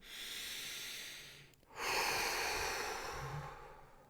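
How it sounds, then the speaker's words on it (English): A slow, audible inhale followed by a long exhale, with a brief pause between them, during a guided healing session; soft, close breathing with no talking. "deep breath in, deep breath out"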